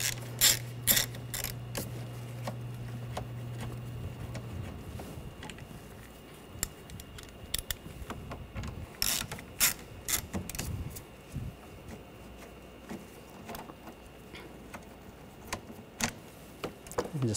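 A ratchet with a T25 socket removing screws on a 2013-2019 Ford Escape, heard as quick clicky mechanical bursts near and fairly quiet, with a steady low hum at the start fading out.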